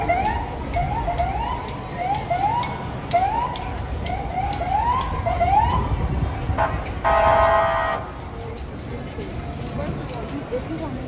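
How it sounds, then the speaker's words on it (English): A police SUV siren passing along a busy New York City street at rush hour, with repeated rising yelps, then a short burst of a steady electronic tone, over dense traffic and crowd noise. "police SUV going by"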